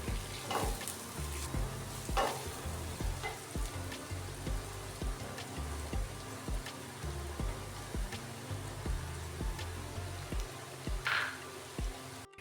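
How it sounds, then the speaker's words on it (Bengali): Chopped onions and garlic fry in a wok, a steady nearby sizzle broken by repeated scraping stir strokes and a few brief spattering bursts, with nobody talking. "পেঁয়াজগুলো ভাজা হয়ে গেলে তাতে চপড গার্লিকগুলো দিয়ে দিতে হবে।"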